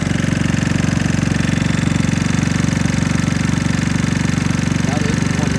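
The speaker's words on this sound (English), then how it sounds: "You hear the engine revving up a little higher?" A Talon GSX150 motorcycle engine runs close by with a steady, rapid pulsing idle that stays loud and even throughout, with a slightly raised, revved pace.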